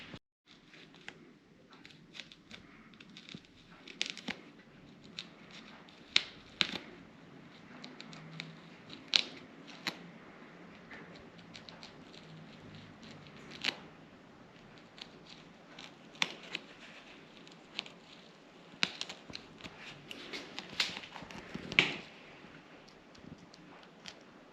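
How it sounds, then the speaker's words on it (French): Small scissors trimming the excess from a synthetic wig, a faint scattered series of quick snips and light crackles at irregular intervals over a quiet background. "On va s'occuper tout simplement d'enlever le surplus de cette partie avec nos petits ciseaux"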